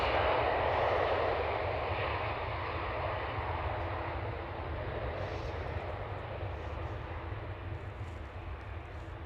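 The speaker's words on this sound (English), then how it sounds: "Right on time for the TUI 787." A TUI Boeing 787 roars past at Amsterdam Schiphol, a broad, steady jet-engine rush that holds loud throughout and eases slightly as the aircraft moves on, with no talking.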